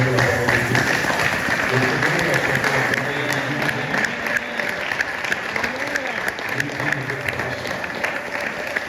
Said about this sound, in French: on va acclamer cette parole merveilleuse